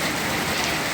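Steady, dense rain pours down outdoors during a halted drama shoot, a continuous close hiss of drops striking surfaces with no talking.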